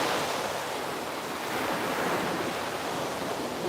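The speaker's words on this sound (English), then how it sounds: "The waves are beautiful." Ocean waves break on a shore in a continuous broad roar of surf, loud and steady, with wind noise mixed in and no one speaking.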